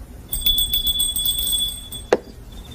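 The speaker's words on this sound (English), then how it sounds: "rings the bell if she needs something" A small hand bell rings indoors, a bright sustained metallic tone with quick repeated jingles, then a sharp knock near the end.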